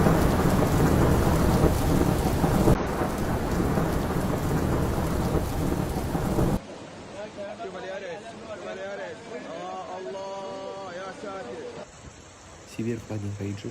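Heavy rain pours steadily in Mecca with loud rolling thunder during flooding, then the downpour continues more quietly amid distant voices and chatter.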